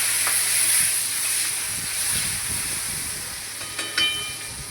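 Paste for a paneer curry sizzles as it goes into a hot pan, a steady bright hiss that slowly eases, with a couple of faint clinks near the end.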